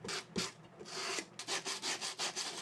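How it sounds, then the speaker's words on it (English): A 36-grit sanding block rubs back and forth over wood planks to add texture, giving close, quiet rasping strokes in a steady rhythm, quicker and evenly spaced toward the end. "I have a 36 sanding block that I go over with as well."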